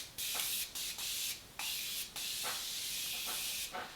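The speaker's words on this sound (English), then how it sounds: "So now I'm going to go ahead and set my face with the Morphe Setting Mist." Morphe Setting Mist sprayed onto a face: a series of close, loud hissing mist bursts, each short and separated by brief pauses, about seven sprays in quick rhythm with no talking.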